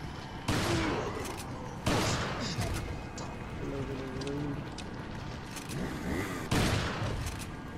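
Rifle shots in the video game Resident Evil 4, three sharp, loud cracks spaced several seconds apart, each with a short decaying tail, over quieter game ambience and faint tonal sounds between them.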